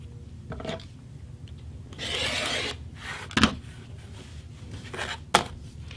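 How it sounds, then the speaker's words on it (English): A rotary cutter slicing through fabric to make binding strips, heard as a few short scraping passes at close range with quiet pauses between them. "And then continue cutting the next 4 strips."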